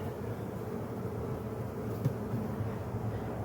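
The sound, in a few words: honey bees buzzing in garden hive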